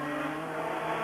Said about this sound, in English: Arnoux has gone past with a badly misfiring Ferrari engine